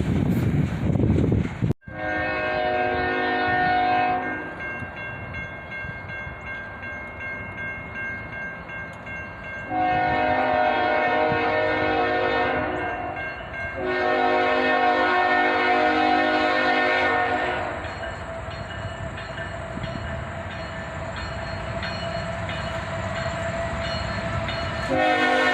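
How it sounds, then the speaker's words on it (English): An autorack freight train arrives with a Canadian Pacific and SD70MAC lineup, sounding several loud, sustained horn blasts in a long-short pattern over a rolling rumble of the passing freight cars. "another train arrived, about 15 minutes later"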